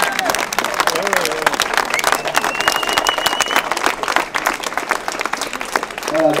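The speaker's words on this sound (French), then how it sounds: "c'est pas très fourni comme applaudissement là." Lively, close clapping from a crowd at an art festival inauguration in Magrie, with individual claps distinct in an uneven rhythm and voices calling out over it near the end.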